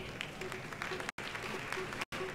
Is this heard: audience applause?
yes